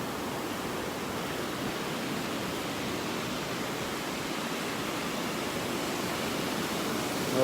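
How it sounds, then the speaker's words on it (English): Small waves break steadily on a beach in North Naples, Florida, a continuous broadband wash of surf rolling in close and fairly loud, with no gaps and no talk. "Nice little waves out here, nice little waves. They got a little force behind them."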